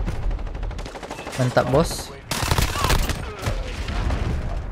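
Rapid bursts of Vector SMG fire in Call of Duty: Modern Warfare crackle through a busy firefight, some dense full-auto stretches loud and close, while someone briefly talks over the shooting.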